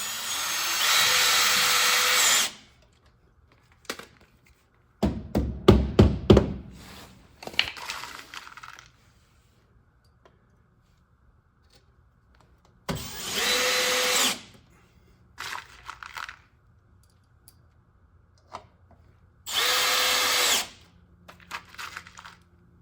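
A power drill drives screws into trailer wheel well trim in several short whirring bursts separated by pauses, with clicks and handling knocks between, close and loud.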